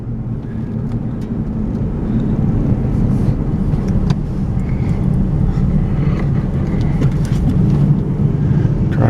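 A car drives along a rural parkway off I-25 south of Trinidad, Colorado, heading toward Santa Fe Trail Ranch, its steady low engine and road rumble continuous and fairly loud throughout, with no talk.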